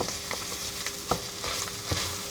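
A spoon stirring tomato puree into shepherd's pie filling in a pan, with a soft steady sizzle and faint scraping taps, close and quiet.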